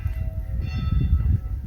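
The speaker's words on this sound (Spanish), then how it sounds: "Es una campana de una iglesia que se llama Incompiuta, que tiene muchísimos años" A distant church bell at the ancient Incompiuta church in Italy rings through heavy wind rumble outdoors, its tone faint but steady throughout.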